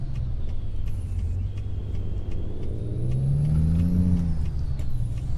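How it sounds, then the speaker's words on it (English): Peterbilt 389 truck in American Truck Simulator with the Jake engine brake engaged, giving a steady, loud, low diesel rumble whose pitch sweeps up and then down, with faint ticking clicks above it. "there's the Jake, the banana brake, we should call it"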